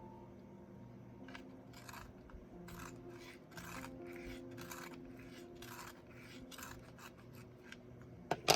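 A colored pencil is sharpened, a quiet rhythmic rasping and grinding repeated in short strokes for several seconds, close to the microphone and heard with no talking.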